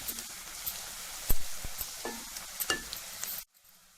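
Cumin and garlic paste frying in a pan for a fried amaranth-greens dish, a bright continuous sizzle with scattered spoon taps and scrapes, cutting off abruptly near the end.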